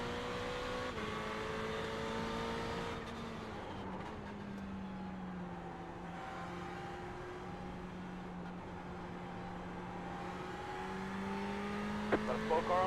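A Ferrari 488 GT3 race car in iRacing laps Tsukuba's full circuit, its engine droning steadily with rising and falling pitch through gear changes and braking, loud and continuous throughout.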